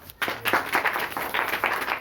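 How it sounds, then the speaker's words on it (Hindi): An audience at a meeting claps in a dense, steady burst of applause, the clapping rising and falling slightly over about two seconds. "तो एक बार उनके सम्मान में मैं जबरदस्त तालियां चाहूँगा।"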